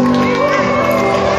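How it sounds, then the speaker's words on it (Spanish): At a carnival inclusion gala in Gáldar, a group on stage cheers with loud shouts and whoops. The crowd roar is continuous and close, with overlapping voices throughout. "el resto del grupo está allí vitoreándolo"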